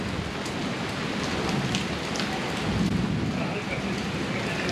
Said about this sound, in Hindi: बारिश तो नहीं दिख रही होगी लेकिन साउंड आ रहा होगा।